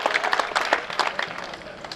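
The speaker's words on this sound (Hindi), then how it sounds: "तो इनके सम्मान में एक बार जोरदार ताली बजाएं।" An audience at a Hindi poetry gathering (kavi sammelan) bursts into a short round of applause: bright, dense clapping with scattered voices, loud and close, tapering slightly toward the end.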